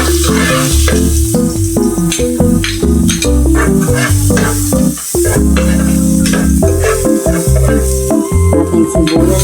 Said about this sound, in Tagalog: Magigisa na po tayo ng bawang sibuyas. Lagyan natin ng konting mantika